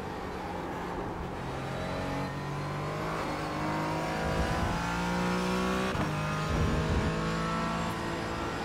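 A race car engine in the iRacing sim revs and climbs through the gears on a fast lap, with repeated rising pitch sweeps and brief dips at shifts, steady and fairly quiet with no talking.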